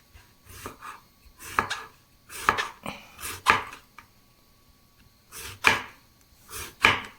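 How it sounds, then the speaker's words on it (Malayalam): A knife chopping eggplant on a board in irregular strokes, some single and some in quick pairs, close and distinct against a quiet background. "അത്ര കുനുകുനാന്ന് അരിയേണ്ട ആവശ്യമില്ല"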